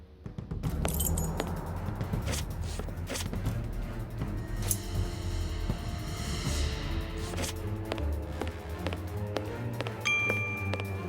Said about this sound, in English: I've got the keys, Doctor.